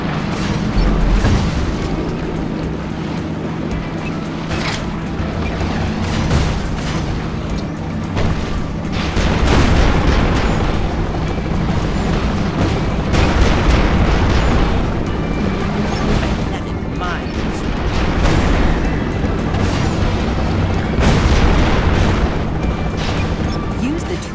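Sticky bombs going off in Secret Agent Clank as repeated deep booms. Each one rises from a constant loud bed of game engine drone and music, spaced every few seconds across the whole stretch.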